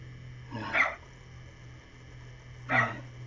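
A small pet dog lets out two separate barks about two seconds apart, moderately loud and close, over a constant low electrical hum in a quiet indoor room.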